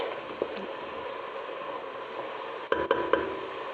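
Spices stirred into food frying in a pan, with black pepper, spice mix, turmeric and ginger added; a low steady sizzle runs throughout while a few soft scraping strokes stand out near the end.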